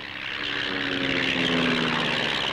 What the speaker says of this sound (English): Here, fitted out as a crop sprayer, this low-price aircraft is adaptable to a variety of uses in a variety of climates.